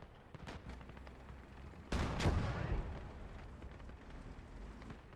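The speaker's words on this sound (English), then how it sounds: "We've got a Katyusha barrage coming in on the Panther" Katyusha rocket barrage in the WWII game Gates of Hell: Ostfront, striking around a Panther tank: a heavy rushing burst of explosions at the clip's midpoint, swelling loud then decaying over a noisy battlefield bed with scattered sharper cracks before it.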